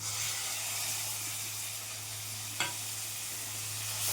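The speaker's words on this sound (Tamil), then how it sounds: "மசாலா தூக்கி இதில் போட்டு நல்லா எண்ணெய் பிரிஞ்சு வர அளவுக்கு நல்லா வணக்கணும்" Masala paste frying in oil in a pan, a steady soft sizzle and hiss throughout with one brief sharp crackle midway, close and fairly quiet, no voices.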